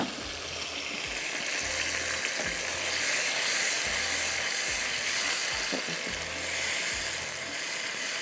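Ground tomatoes going into a frying masala in a pan, a loud continuous hissing sizzle with a low rumble beneath and occasional stirring knocks, no speech.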